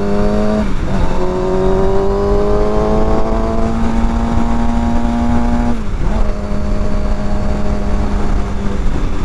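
An older sport motorcycle engine runs loud and close while riding, its tone climbing steadily in pitch, with two sharp dips and changes in pitch, like gear shifts, early and again later.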